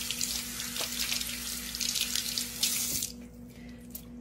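Tap water runs steadily into a sink as hands are washed after garden work with plants, a close broadband rush that drops away near the end as the faucet is shut off.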